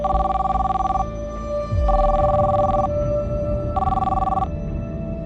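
A telephone rings after a call is placed, repeating in steady electronic bursts of about a second each with short pauses, loud and close, over a low steady hum.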